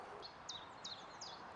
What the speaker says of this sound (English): there are so many birds singing at the moment